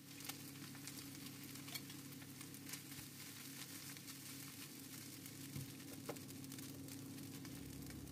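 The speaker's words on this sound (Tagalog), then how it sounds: "ilagay ang leftover fried fish at igisa ng 3 hanggang 5 minuto" Leftover fried fish sautéing in a pan, a steady close crackling sizzle with occasional stirring scrapes throughout, no voices.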